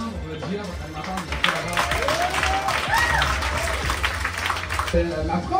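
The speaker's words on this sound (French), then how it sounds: "Un tour à l'applaudissement pour le GM" Audience applause for a French-speaking show host rings out steadily through the whole stretch, dense clapping with crowd noise, while a loud voice talks over it.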